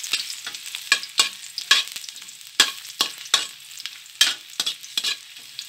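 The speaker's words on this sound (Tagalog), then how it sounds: "Tapos, i-brown-brown lang natin siya dyan. Para lumabas lang yung flavor ng luya." Ginger browns in a pan for chicken tinola, crackling and sizzling as it is stirred, with a series of sharp scraping strokes over quiet gaps, close and clear without talk.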